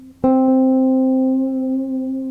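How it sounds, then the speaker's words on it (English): A single bass guitar note is plucked and held, starting steady before a gentle vibrato creeps in toward the end. "it's worth holding the note still and then bringing the vibrato in later."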